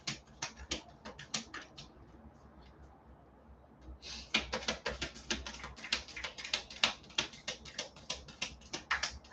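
Soft crisp riffling of tarot cards being shuffled close by, in quick clicking bursts with a short pause in between.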